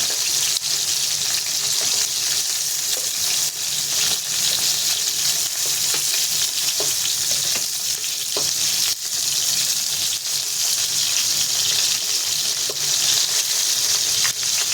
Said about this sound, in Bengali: এক পিস করে ভাজা হোক। এবার আমি দেখি একটা করে উল্টিয়ে দেবো